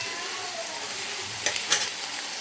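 Vegetables for a mixed veg soup being stirred in a pan with pepper powder, a soft continuous sizzle with two brief scraping clinks of the spoon near the end.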